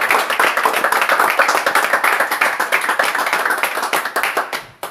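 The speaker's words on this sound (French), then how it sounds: "Applaudissons pour le Seigneur." A church congregation claps together during a sermon, rapid rhythmic clapping from many hands in near unison, loud and steady before fading out at the end.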